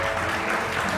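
A group of people clapping together, a dense steady burst of applause lasting about a second with no gaps.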